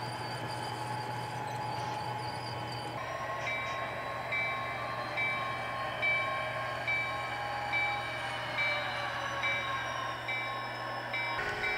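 A freight train with a caboose rolls slowly into the Ozol Yard limits on the Cal-P line past Crockett Station, a low continuous rumble with faint wheel squeal and distant horn-like tones, steady throughout.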